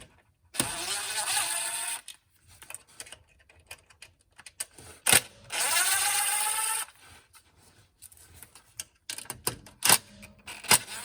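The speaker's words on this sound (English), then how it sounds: "I'm going to use the screw gun since I'm loosening it." A cordless screw gun loosens a screw while a 4WD actuator is being replaced on a V8 Toyota 4Runner, giving two sustained whirring bursts with rising pitch, separated by sharp clicks and knocks of tools nearby.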